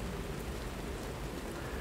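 Steady, even rain pours down throughout a dark, creepy gothic city in the video game Lies of P, a dense continuous hiss of drops on surfaces with no voices.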